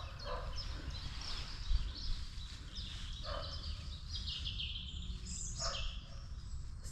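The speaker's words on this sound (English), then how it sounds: "So many birds." Many birds chirp and call near water during a kayak paddle, scattered bird notes rising over a steady low wind-like rumble, with no talk.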